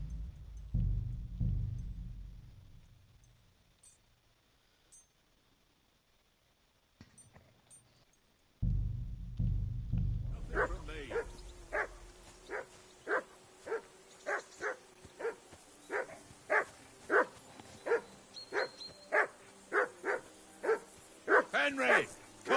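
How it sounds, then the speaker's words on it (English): A dog barks repeatedly in the video game Kingdom Come: Deliverance 2, first a few low muffled woofs, then after a pause a long run of sharp, evenly spaced barks that grows steady and insistent. "That barking was a pain in the ass."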